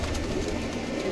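Pigeons coo steadily and close by, a soft continuous cooing from a flock of fancy pigeons bred in pink-ringed and red-ringed varieties, with no talk over it.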